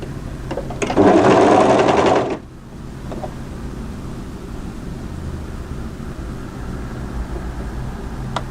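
A sewing machine runs one quick burst of stitching, about a second long, to tack a tie on a tie-front dress in place. It is close and steady, followed by quiet room tone.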